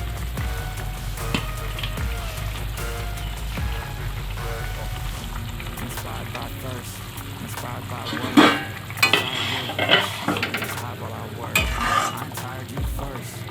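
Fried fish pieces go into a simmering curry made with raw mango, which bubbles steadily while a spoon stirs. Splashy clatters and scrapes sound near the end.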